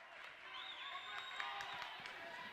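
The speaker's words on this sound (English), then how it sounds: "Govin gets on the board and the crowd approves of it" Girls high school basketball game, Durfee versus Brockton: a gym crowd cheers and murmurs approval after a basket, a steady broad roar with scattered shouts and whistles throughout, while a commentator talks over it.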